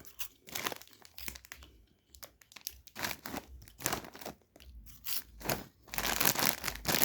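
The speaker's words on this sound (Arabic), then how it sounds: "فتحنا كيس علي" A plastic snack bag of Lolo ketchup-flavoured snacks crinkles and crackles loudly up close in irregular bursts as it is handled and torn open, with no talk.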